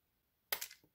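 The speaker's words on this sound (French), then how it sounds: "Vous prenez vos ciseaux et vous coupez droit jusqu'ici là." Scissors snip straight through a pop-up birthday cake card, a single crisp cut followed by a brief softer rustle of the card, close and alone in a quiet room.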